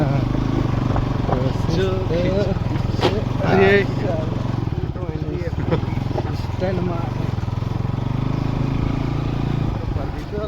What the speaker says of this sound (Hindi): तो हम लोग बाइक से ही आगे चल रहे हैं